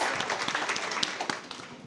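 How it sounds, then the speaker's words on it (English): Dense, steady applause from an audience at an entrepreneurship event, many hands clapping at once for a couple of seconds, no voices standing out. "Just give a round of applause."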